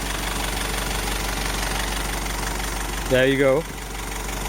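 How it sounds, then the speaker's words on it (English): A Mercedes-Benz E200 CDI W210 four-cylinder diesel idles steadily and close by, a low even hum that continues under a brief spoken remark near the end. "The CDI 4-cylinder engine. Tank solid, really. Runs still so smooth."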